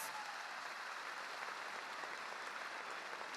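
Applause from a crowd at an assembly of coca-growing organizations in Catatumbo, a continuous even wash of many hands clapping, fairly faint and distant throughout.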